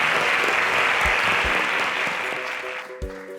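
A studio audience applauds contestants leaving a Nigerian TV competition semi-final, dense sustained clapping that fades toward the end, with a brief voice near the close.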